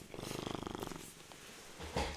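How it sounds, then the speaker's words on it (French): A cat purring close up with a rapid, rhythmic pulsing that fades after about a second, followed by quiet room noise and a soft rustle at the end. "ils ronronnent comme un bon diesel"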